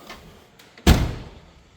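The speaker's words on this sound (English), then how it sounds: "The door shuts nicely." The door of a 1966 first-generation Ford Mustang shuts with one solid, close thud, preceded by faint handling clicks and followed by a short decaying rumble.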